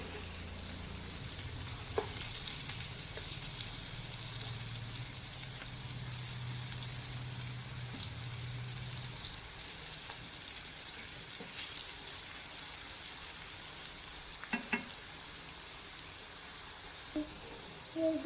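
Elephant foot yam (suran) slices shallow-frying in a pan, a low, steady crackling sizzle throughout with a faint hum early on and a few brief utensil taps near the end.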